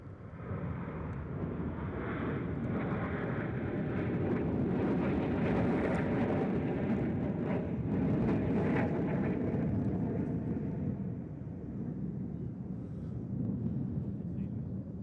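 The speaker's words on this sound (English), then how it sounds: "we got aircraft over here" An aircraft passes over Smyrna Airport during airshow practice, a loud, sustained low engine roar that swells and holds for the whole stretch, rumbling under a wash of wind noise.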